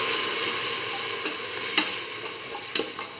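Chayote and green peas hiss in a hot pan as a steady close sizzle, with a couple of faint stirring knocks and no talking.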